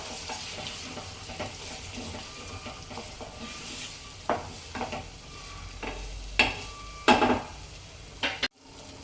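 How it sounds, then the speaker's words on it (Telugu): Tomatoes being tipped into a hot frying pan and stirred for a chicken handi, a low sizzle running under scattered spoon scrapes and clinks that grow sharper and more frequent toward the end, with no voices. "వేసుకొని మనం మంచిగా మిక్స్ చేసుకోవాలి."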